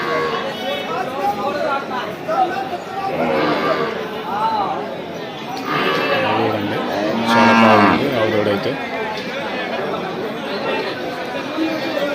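Cows and bulls moo loudly over the busy chatter of a crowd at a livestock market, with several long lowing calls rising above the voices.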